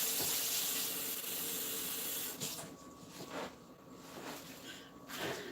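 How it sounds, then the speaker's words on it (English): Water runs and splashes steadily into a container, a continuous hissy pour that tapers off partway through, leaving quieter trickles and light clinks. "add that half cup of water"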